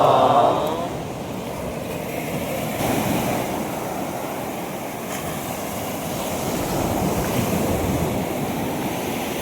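Sea waves washing onto a quiet beach at Penth in Odisha, a steady rushing surf roar with some wind buffeting the microphone, moderately loud and continuous.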